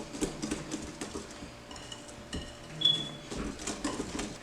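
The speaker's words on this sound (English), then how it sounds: "We'll stir that up in there, like so." Utensils clink and scrape softly against a pot of peach cobbler ingredients in quick, uneven strokes, close by and quiet, with no voices.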